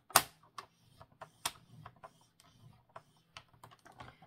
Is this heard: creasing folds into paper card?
yes